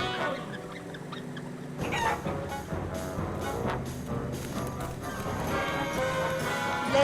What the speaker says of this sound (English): someone call off the chickens.